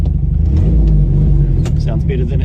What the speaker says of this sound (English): There's a hole in the exhaust, or there's a break in a weld or something like that.